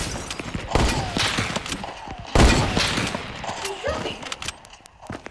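Rapid video game gunfire from a hunting rifle, loud bursts of shots with a strong crack near the middle, mixed with game sound effects and voices talking over it.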